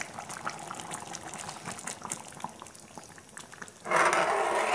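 Second coconut milk poured into boiling chathusatham payasam: a low bubbling simmer gives way to a sudden loud, steady rush of pouring liquid near the end.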